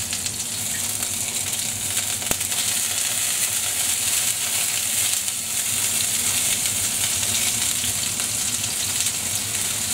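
Garlic frying in a pan for sweet and sour pork gives a continuous loud sizzle, hissing steadily and close up for ten seconds with no talk over it.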